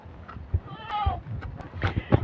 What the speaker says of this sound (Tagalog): Ito guys, ang aming kambing.